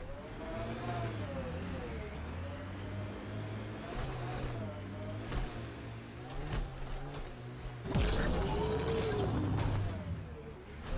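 Nomad rover from Mass Effect: Andromeda driving and boosting, a steady mid-pitched engine drone with rising revs, swelling into a louder whooshing burst near the end, with game music underneath.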